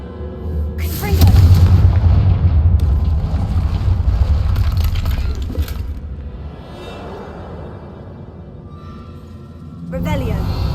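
A Confringo blasting spell in Hogwarts Legacy goes off with a loud booming blast and a long rumbling, wind-like rush that fades, followed by a second burst near the end.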